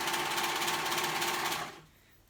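A sewing machine stitches a seam on a cardigan, a steady fast mechanical whir running loud and close for about a second and a half before stopping abruptly.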